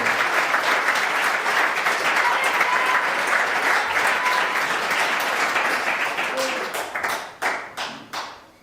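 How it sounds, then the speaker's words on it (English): An audience at an indoor farewell event breaks into sustained applause, a dense wash of clapping that holds steady and then thins out into a few last scattered claps. "please give her a big round of applause"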